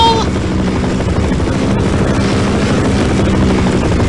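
A helicopter hovers in the video game Half-Life, a loud throbbing rotor roar with low rhythmic beating that holds steady and close throughout.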